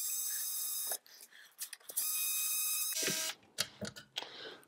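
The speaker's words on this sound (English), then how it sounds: "we'll grab our screwdriver and undo these bolts real quick" A powered screwdriver whirs in steady, high-pitched runs of about a second each while backing bolts out of an Atari Primal Rage arcade cabinet. Short clicks and rattles fill the gaps between the runs.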